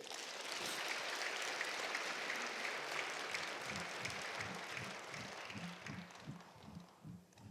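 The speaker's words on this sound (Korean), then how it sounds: "우리 저 학생들 박수 한번 쳐줘요." Congregation applauding students during a Friday worship service at a Korean church, steady clapping throughout, joined in the latter half by rhythmic low-pitched pulses like music or chanting under the clapping.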